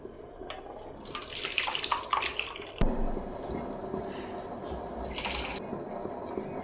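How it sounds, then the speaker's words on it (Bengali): Water poured and splashing over strained chhana, cheese curdled with vinegar, a gushing tap-like stream with a sudden heavier splash midway, then steady running flow. "ছানাটা নর্মাল জল দিয়ে দুবার ভালো করে ধুয়ে নিচ্ছি"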